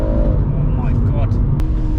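A BMW M140i hatchback with a Wavetrac limited slip differential revving hard as its rear wheels spin, a loud close engine roar with tire noise, while a person speaks over it.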